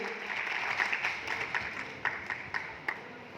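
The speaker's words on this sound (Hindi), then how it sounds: "एक बार जोरदार तालियों से आपको सम्मान में जोरदार तालियां बजाएं" A crowd at an Ashoka birth-anniversary event claps in moderate applause, thinning into a few scattered, distinct claps toward the end.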